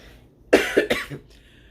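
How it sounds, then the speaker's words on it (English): A single harsh cough, a short burst of two or three hacks, close and fairly loud against a quiet background. "All right, so I have a cough."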